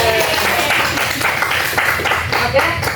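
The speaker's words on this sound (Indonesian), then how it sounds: "Tepuk tangan untuk kita semua." Classroom applause during a microteaching lesson on Islamic religious education and character, a steady wash of hand claps from students mixed with voices, fairly loud and continuous throughout.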